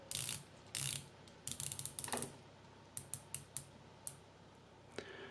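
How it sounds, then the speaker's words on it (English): A Spinnaker Mecaquartz Chronograph watch's 120-click diving bezel ratchets in crisp, close clicks, first in quick bursts, then as single clicks spaced about half a second apart. "It also features the diving bezel. It has 120 clicks"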